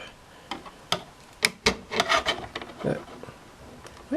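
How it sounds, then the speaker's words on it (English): A screwdriver working a screw loose on a small Fire Rodan figure, a run of scattered close clicks and scraping turns, irregular and getting busier midway, with no talk. "I need my screwdriver. There we go, loosen it up."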